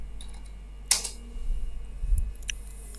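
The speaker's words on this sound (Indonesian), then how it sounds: "Kita ketik aja npm install." Keys on a computer keyboard are tapped to enter an npm install command, a few sharp clicks and a quick cluster of softer taps over quiet room hum, close and alone.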